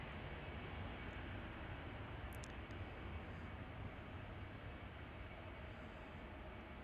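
A British Airways airliner takes off at O'Hare, a steady, distant broadband engine roar that stays even and fairly faint throughout.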